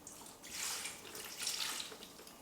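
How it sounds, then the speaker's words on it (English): Beef stock poured into a cooking pot for red wine braised beef cheeks, a soft splashing pour of liquid that swells twice over a couple of seconds, fairly faint and with no talk. "So I'm just going to pour that straight in."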